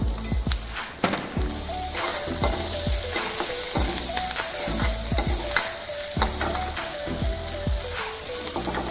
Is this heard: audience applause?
no